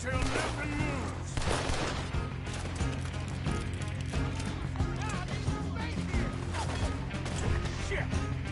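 Rapid, dense gunfire from a Red Dead Redemption shootout, a loud near-continuous barrage of overlapping shots and impacts with no letup, with voices talking underneath.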